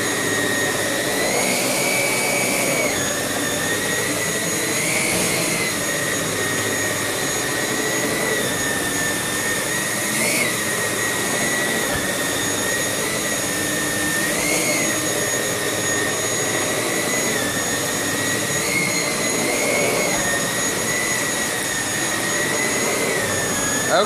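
A Samsung bagless canister vacuum cleaner runs on high pile carpet with a loud, constant high-pitched motor whine and airflow roar, its pitch dipping slightly at regular intervals as the head is pushed back and forth.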